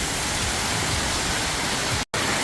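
Heavy cyclone rainwater rushes down a flooded street drain. A dense, steady hiss and gush of flowing water fills the clip and is broken only by a brief dropout near the end, with no voices.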